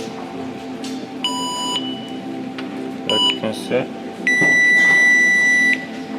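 An aftermarket reverse parking sensor buzzer, newly wired, beeps in steady tones, a few short bursts and then a longer sustained beep, over hum and a voice talking.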